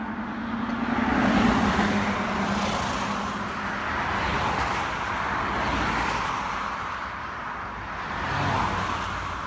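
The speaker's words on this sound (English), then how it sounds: "plenty of traffic." Road traffic flows past a trailhead parking lot along the Appalachian Trail, heard as a moderate, continuous roadway rush. Vehicles swell and fade as they pass, with louder passes near the start and the end.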